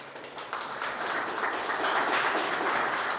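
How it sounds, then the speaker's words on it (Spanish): A church congregation applauds together in a sustained, dense wash of clapping that holds steady and fairly loud throughout, with no voices above it. "Dale un aplauso a Dios por eso."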